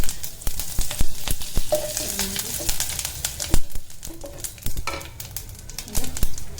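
Mustard seeds, cumin, asafoetida, turmeric and curry leaves fry in hot oil, a close crackling sizzle with sharp spitting pops and the clink of a stirring spoon against the pan.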